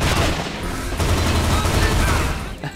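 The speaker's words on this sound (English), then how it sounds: "As soon as I get it, they start shooting at me." Enemies fire on the player in Infernal: Hell's Vengeance, a loud, dense barrage of rapid automatic gunshots and booming impacts that rattles on without pause before easing slightly at the end.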